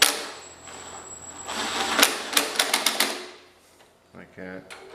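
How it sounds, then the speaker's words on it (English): A ratchet with a 1/2-inch socket tightens head bolts on a 1972 Homelite T10 chainsaw, giving a run of quick sharp clicks that bunch into a burst, with someone talking over and around them. "Let's get these guys tightened down just to the first click"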